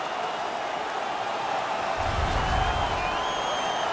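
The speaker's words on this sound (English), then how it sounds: "The home crowd is ecstatic. They're making all kinds of noise." Home crowd roars and cheers after a fight in the NHL 18 video game, a Canada versus Belarus hockey match; the dense, continuous crowd noise swells slightly midway.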